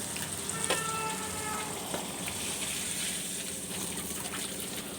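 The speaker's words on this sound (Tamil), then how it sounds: "இப்போ வந்து மீன் நல்லா வெந்துருச்சுங்க" Fish frying in a pan, a steady dense sizzle and crackle of hot oil holding at an even level throughout, with a few brief clinks and stirring touches near the start and no talking.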